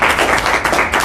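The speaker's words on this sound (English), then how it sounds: "so let's give him a big round of applause." Audience in a business marketing seminar room applauding a speaker, a dense, steady wash of many hands clapping close by, loud and continuous with no talk over it.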